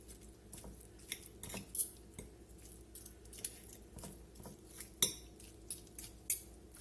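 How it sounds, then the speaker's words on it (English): Cooked birria beef is pulled apart and shredded with metal utensils, giving scattered clinks and scrapes with soft squishy tearing in between, close and fairly quiet, with one sharper knock partway through. "we just want to go in here and get this beef pulled apart"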